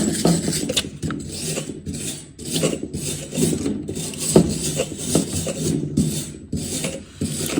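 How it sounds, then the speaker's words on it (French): Wire brush scrubbing a metal pipe after welding, rough rasping strokes in an uneven rhythm, close and moderately loud, with no speech. "De brosse métallique."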